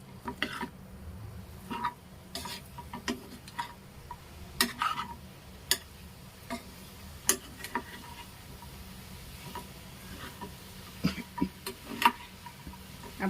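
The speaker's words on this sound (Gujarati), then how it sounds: "તો આપણે બધું સરસ મજાનું મિક્સ કરી લેશું।" Poha and potatoes stirred together in a pan for a Gujarati breakfast, with soft scraping and clicking of a spoon against the pan in sparse, irregular taps over a faint sizzle.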